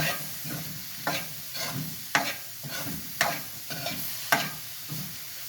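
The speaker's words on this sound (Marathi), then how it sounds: "हे बघा, आणि छानपैकी ह्याला ढवळून घ्यायचं." Mushrooms are stirred in a sizzling kadhai with a spoon scraping the pan about five times in a regular rhythm, each stroke a distinct scrape over a constant soft fry.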